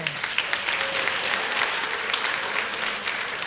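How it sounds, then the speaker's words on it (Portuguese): Steady applause from a church congregation at a festival, a full continuous clapping texture at even loudness throughout, with faint crowd murmur beneath. "Un aplauso más fuerte."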